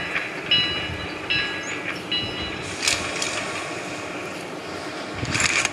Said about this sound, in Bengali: কারণ আমার এই একটা ট্রেনই জর্জবলের দিকে যাবে।